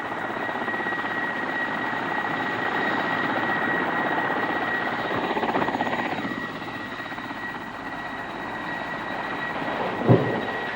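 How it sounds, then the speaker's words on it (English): A helicopter drones steadily nearby, its rotor and engine noise constant throughout, with a brief thump near the end. "the helicopters still arrive for pickup at the beginning of October"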